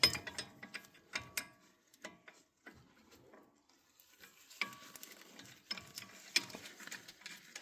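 A ratchet wrench clicks in quiet, irregular bursts while loosening the bottom 14 mm caliper bolt on a Lexus ES 350 front brake, with light metallic ticks and scrapes between the short runs of turning.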